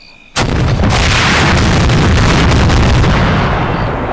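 A sudden, loud explosion in the video game Arma 3 erupts after a brief quiet moment, followed by a sustained roaring rumble that slowly fades but stays heavy throughout.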